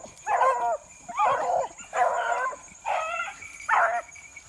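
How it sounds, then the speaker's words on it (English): Beagles caught in briars during a hunt give five short, close whimpering yelps and whiny barks, loud and evenly spaced with brief pauses between them. "It's funny seeing these dogs get stuck in these briars."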